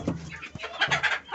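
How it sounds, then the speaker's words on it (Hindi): Desi hens clucking nearby, a few short throaty calls in quick succession, close and moderately loud with no talk. "और ये देसी मुर्गियाँ"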